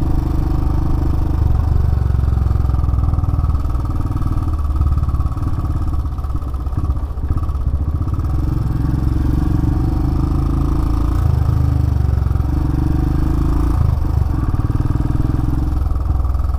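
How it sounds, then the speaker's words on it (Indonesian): Royal Enfield Himalayan 2018 with a 411cc single-cylinder engine on a test ride. It gives a steady, close, loud thumping drone with slight rises in revs and mechanical clatter, and no talking. "Dan motor ini punya mesin 1 silinder ya, 400 cc, 411 cc kalau nggak salah."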